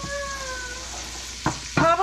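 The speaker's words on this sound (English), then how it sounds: "we're going to saute these for about 4 minutes" Vegetables for potato soup sauteing in a pan, a soft steady sizzle under a faint tonal hum, with a couple of short louder scrapes of stirring near the end.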